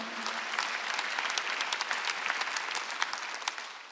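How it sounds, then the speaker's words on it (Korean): An audience claps steadily for a few seconds at a Sunday church service, a dense patter of many hands close by, fading slightly at the end. "박수 한번 해주세요."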